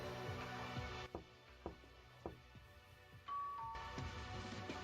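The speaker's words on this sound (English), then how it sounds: "even after waking up, the doorbell rang. Someone is calling." Doorbell chime in the video game Danganronpa: Another Despair Academy, a few short ding-dong tones over steady background music, with no talk.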